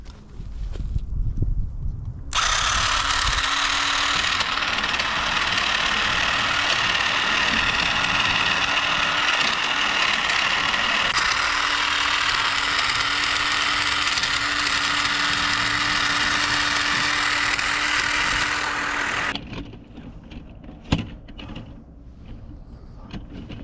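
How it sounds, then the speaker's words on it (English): A SEESII cordless trimmer cuts through grapevines, its steady high-pitched motor whine running continuously for about seventeen seconds before stopping, leaving faint rustling behind. "I can get that with my SEESII trimmer, so let's get it."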